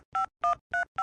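Four sharp touch-tone beeps of a telephone number being dialed in a cartoon, evenly spaced and loud, each a short clean two-tone pip with silence between.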